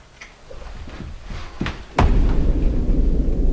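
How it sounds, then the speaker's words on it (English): Several dull knocks and thuds heard during a ghost hunt, a few soft raps followed by a sharper loud bang, then a lingering low rumble. "I just heard knocking."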